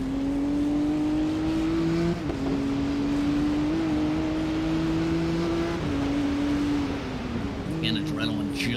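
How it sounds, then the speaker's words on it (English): Race cars roar around the Nürburgring during the winter 24-hour race, a steady loud engine drone holding a sustained pitch with small shifts, close and continuous, with a brief higher burst near the end. "hearing the roar of race cars around the circuit"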